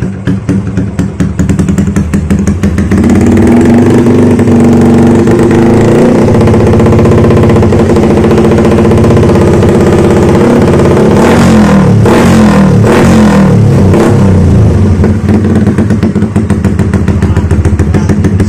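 A Yamaha MX motorcycle engine runs loudly and steadily near the listener, then revs hard several times in quick bursts before settling back to a rough idle.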